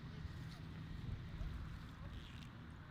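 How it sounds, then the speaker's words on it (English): Wind blowing outdoors at an event, a steady broadband rush with gusty low rumble filling the whole stretch, no clear voices over it. "Getting windy."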